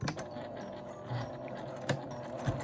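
A sewing machine stitches through thick layered fabric while making an A4-size sacoche bag, a close, steady mechanical chatter with soft ratcheting knocks and a few louder thumps.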